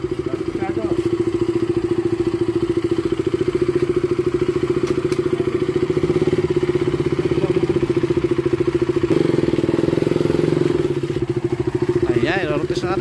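A KTM Duke 200cc motorcycle engine runs steadily and loudly during a road test, its even drone continuing throughout, while voices talk over it.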